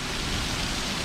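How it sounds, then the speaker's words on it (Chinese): Water sprays hard onto a new B-type camper van during a rain leak test and wash, a brief, loud, continuous hiss of spray hitting the body up close. "做一个淋雨测试，顺便把车洗一洗。"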